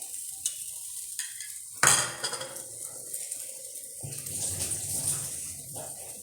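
Egg and bread fry in a pan while a utensil stirs and scrapes, with close clinks and a sharp clatter followed by steady sizzling; no one speaks.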